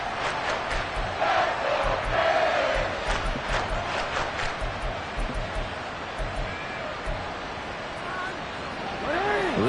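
Stadium crowd roar in a Madden NFL 24 football video game during a late playoff drive, a steady dense wash of noise with swells and scattered shouts running the whole time.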